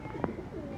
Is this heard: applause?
no